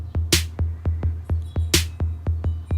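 A programmed footwork drum beat from an FPC drum machine, with steady punchy kicks and two crisp snare hits looping quickly and evenly, no voices.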